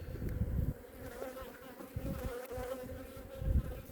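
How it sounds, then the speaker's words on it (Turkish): Honeybees hum steadily in an open hive during an autumn inspection, a close, dense buzz that swells and fades in waves with no voices over it. "Polen getiren arılarımız mevcut."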